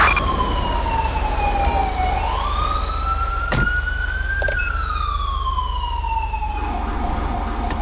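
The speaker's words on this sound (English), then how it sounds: "Don't know whose siren that is." A police siren in GTA5 with the LSPDFR mod wails continuously, its pitch sliding slowly up and down over a low engine hum, moderately loud and steady, with no talk.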